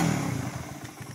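A motorcycle engine fitted with a budget 32mm carburetor, on a bike of roughly 150–180cc, idles close by with a steady low throbbing pulse and faint mechanical clatter over about a second.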